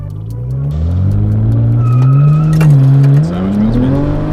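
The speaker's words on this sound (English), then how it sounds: "too much wheel spin" A BMW with an N54 engine launching hard, the engine note rising loud and close as the tyres spin, with a brief dip before it climbs again.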